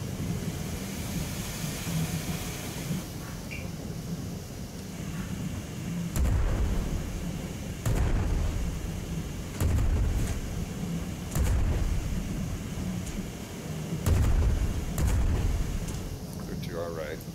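Ship cannons firing during an airship battle in the Worlds Adrift video game, a string of heavy booming shots spaced a second or two apart over constant engine rumble, with players talking throughout.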